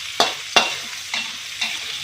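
Shrimp stir-fried in a pan for Acehnese fried noodles, with four separate scraping stirs over a soft, steady sizzle, the first two close together and sharper, the later ones gentler.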